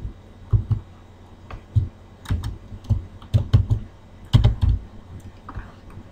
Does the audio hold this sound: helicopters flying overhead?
no